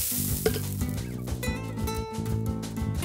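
Steady sizzling of beef with harissa frying in a pan, with soft stirring and cheerful music tones from the cooking game Let's Go Luna: Chef Leo's Creative Kitchen playing over it.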